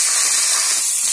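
Finely chopped pirandai (adamant creeper) hits hot sesame oil, setting off a loud, steady, close hiss of sizzling that holds evenly for about a second with no voices.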